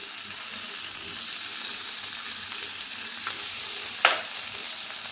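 Garlic cloves, urad dal and tomato frying in a pan for a chutney, a continuous close sizzle with a brief stir or clink near the end, no talk.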